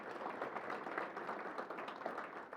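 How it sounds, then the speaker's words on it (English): An audience at an airport service update gives a round of applause, a soft and fairly distant patter of many hands clapping steadily for a few seconds. "So a big round of applause for them"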